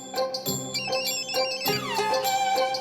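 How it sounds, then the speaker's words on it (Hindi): A phone rings in a repeating electronic melody of bright, pulsing tones, loud and close, with no talk over it. "ये फोन आ रहा है ना"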